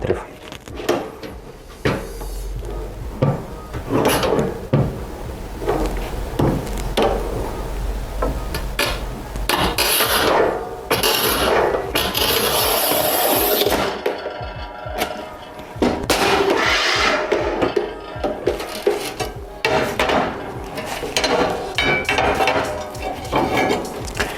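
Kristal Giga Cut 120 cm manual tile cutter scoring and snapping a 70 mm strip of tile, heard as loud scraping, clacks and knocks from the tool close by, with some talk mixed in.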